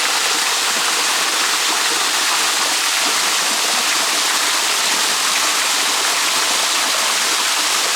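A rainforest waterfall in Australia pours in a dense, steady roar, loud and close with no break and no voices.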